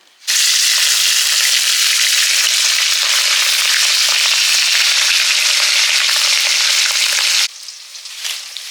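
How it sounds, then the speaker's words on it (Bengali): Turmeric-coated bata fish drops into hot oil and sizzles loudly and steadily for several seconds, then eases back to a quieter frying hiss. "হলুদ মাখিয়ে দিয়েছি, এবারে ভাজবো।"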